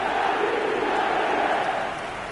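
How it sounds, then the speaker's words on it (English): Dense, steady roar of a stadium crowd celebrating a goal in the eFootball video game, loud and continuous, easing slightly toward the end. "the crowd level has gone up a notch or 10"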